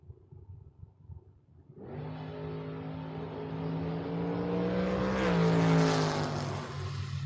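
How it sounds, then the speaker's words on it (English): Drag race cars at a door-wars bracket race, engine roaring up sharply after a quiet start and sustaining a loud, rising revving drone as they run down the racetrack. "As the throttle game getting played up at the top part of the racetrack, Devin Dudley is going to take the round win"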